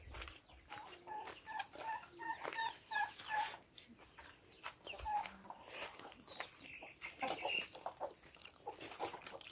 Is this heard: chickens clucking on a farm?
yes